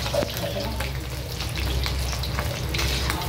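Marinated pork fries for a pork dry fry, a continuous close crackling sizzle with scattered pops and stirring scrapes, steady in level throughout.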